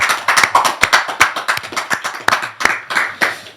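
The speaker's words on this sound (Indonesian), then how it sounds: "Tepuk tangan buat Gus Islah Bahrawi" Studio audience clapping for a guest, a brisk, uneven patter of fairly few hands, loud and close with sharp individual claps over about three seconds and no talking.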